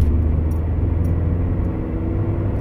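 A Suzuki Swift engine runs at full throttle in third gear, a steady low drone with a faint whir, close and constant for a couple of seconds with no talking.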